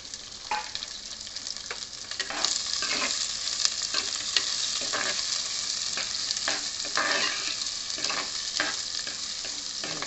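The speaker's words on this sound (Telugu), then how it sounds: "ఉల్లిగడ్డ బాగా మగ్గాలి" Chopped onions for a drumstick curry fry in a pan with a steady close sizzle, stirred now and then with soft scraping strokes, no voices over it.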